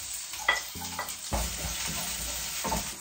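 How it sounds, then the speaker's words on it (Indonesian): Garlic and shallots frying in oil give a steady crackling sizzle, with a few clunks and scrapes of a utensil in the pan, close by and without talk. "Oke, kita kasih minyak. Sekarang kita kasih bawang putih sama bawang merah."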